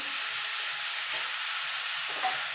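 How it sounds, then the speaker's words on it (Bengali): Diced potato is stirred in a cooking pan for chicken stew, making a constant hissing sizzle broken by soft, intermittent scrapes of the spoon, with no voices. "আলুটাকে একটু নাড়াচাড়া করে নেব"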